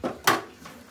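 A lid set onto a pot of jorda semai (sweet vermicelli) lands with one short, sharp knock after a soft shuffling start, then a faint lingering rattle, close by with no talk.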